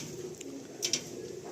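A Madrasi pigeon gives a brief, soft coo close by against a quiet room hum, ending in a couple of faint sharp clicks.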